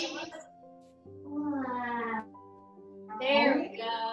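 A child imitates a cat's meow during a yoga cat-cow pose, a few drawn-out tonal mews rising and falling in a quiet room, close and clear.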